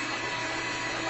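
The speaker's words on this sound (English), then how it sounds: "it's over 40 years old and it still works wonderfully. So I'm just gonna beat it on high." An electric mixer over 40 years old beats cream on high speed. It gives a steady, dense whirring drone that holds at an even level throughout, close and alone, with no talk.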